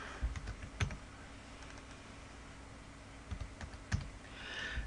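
A few soft keystrokes on a computer keyboard as a number is typed, faint and close, with clusters of clicks near the start and again near the end amid quiet room noise.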